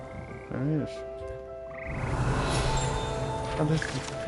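A frog croaks inside the Hogwarts video game, short warbling calls rising and falling near the start and again later, set against soft game ambience with a voice talking briefly.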